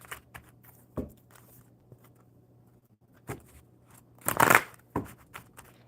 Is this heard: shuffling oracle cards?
yes